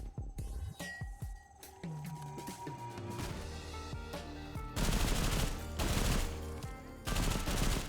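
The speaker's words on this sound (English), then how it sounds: "Thing does a real good job of shredding targets like you'd expect a machine gun to do" Machine gun fire in the video game Sulfur: rapid, loud automatic bursts with heavy crackling shots, building into dense sustained firing over the final seconds.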